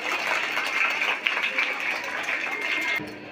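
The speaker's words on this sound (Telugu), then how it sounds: "మీరు సీఎం సార్కు క్లాప్స్ పెట్టాలి" A parents-teachers meeting audience at a model school in Gutti applauds at a steady, dense level for about three seconds with no clear pauses, the clapping mixed with a murmur from the crowd.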